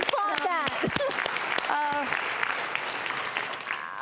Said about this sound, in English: I'm gonna applaud that.